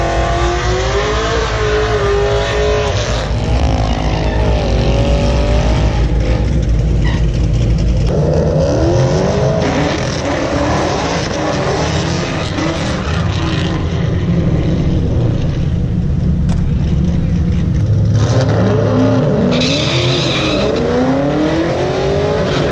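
A 2015 Chevrolet Camaro SS with a Texas Speed 235/239 cam on street tires launches and runs a quarter mile, its V8 roaring loud and close through rising, repeated gear pulls with steady road and wind noise throughout.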